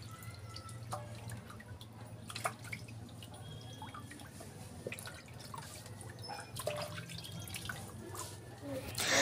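Water runs and drips into a basin while meat is washed by hand, soft splashes and trickling close by, with occasional clinks and a faint voice.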